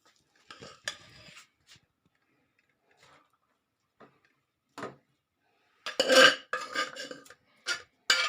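Cooked rice is tipped into a pan for a sweet rice dish and stirred with a utensil. Sparse scraping clatters break up quiet gaps, then a denser burst of spoon-on-metal scrapes comes near the end.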